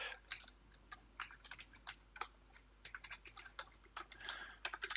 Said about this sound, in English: type the name of the mailbox user you want to open here.